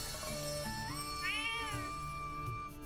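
In-game cats give a few rising meows, one higher, drawn-out cry standing out, set over a steady synthetic music backdrop at moderate loudness.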